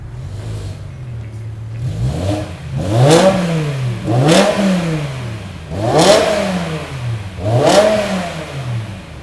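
A 2007 BMW M6 engine fires up, then revs hard several times in rising and falling bursts, loud and close, with no talking.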